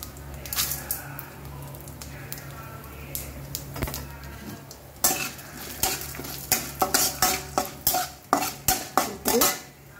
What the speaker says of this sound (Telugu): కొద్దిగా ఆవాలు వేసాను, కొంచెం జీలకర్ర, తర్వాత మినపప్పు ఒక 2 టేబుల్ స్పూన్లు వేస్తాను